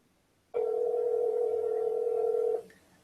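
A telephone ringing tone on an outgoing call, one sustained, clean burst lasting about two seconds, close and clear with no talking over it.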